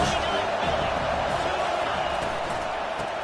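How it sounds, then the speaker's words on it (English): A dense, steady roar from a college football stadium crowd at a Notre Dame vs USC game fills the clip, loud and continuous as the noise swells before a second-down play. "this crowd is turning it up a notch"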